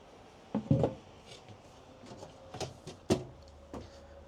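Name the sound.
soft close drawers in a Thor Gemini motorhome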